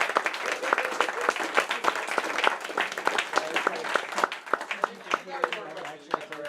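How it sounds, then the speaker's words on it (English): An audience gives a round of applause at a show-and-tell gathering, many hands clapping in quick, dense bursts with brief voices mixed in as it winds down. "Round of applause."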